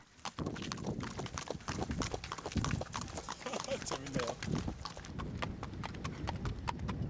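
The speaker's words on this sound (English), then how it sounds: "I notice a strange-looking carriage pass by and stop for a moment to stare." A horse-drawn carriage in Malta clip-clops past with steady, close hoofbeats on the street, a horse briefly whinnying, while people talk and street noise carries underneath.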